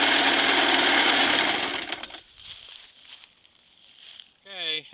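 A 1956 Mercury Mark 25E electric-start outboard motor buzzes steadily and loudly for about two seconds, then shuts off, leaving a voice speaking nearby.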